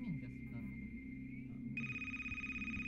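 Phone ringing in a video game, an electronic tone that steps up into a brighter repeated ring partway through, with low background game sound and voice underneath.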